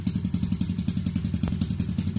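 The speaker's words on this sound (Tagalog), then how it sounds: "yung motor ko sinalpakan ko ng open pipe" A Yamaha Mio Sportico motorcycle idling through an open exhaust pipe, a loud, close, rapid and even chain of popping thumps that goes on without a break, with no talk.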